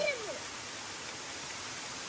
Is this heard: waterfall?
yes